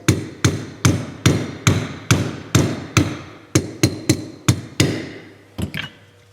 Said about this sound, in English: Going to go ahead and grab a small punch and going to go ahead and start hammering that pin out.